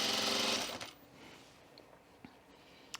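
Sewing machine stitching a quarter-inch seam on a button-up shirt, a short burst of fast mechanical whirring lasting under a second, followed by quiet handling and a few faint clicks.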